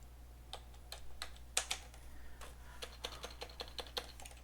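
Someone types on a computer keyboard with irregular bursts of crisp, close key clicks, some pauses between runs and a quiet low hum underneath.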